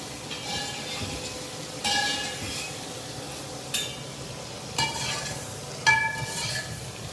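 Kadhi, a Haryanvi yogurt curry, gets stirred in a pot, with a soft steady bubbling sizzle and several scraping strokes of a spoon against the pot's side at irregular intervals.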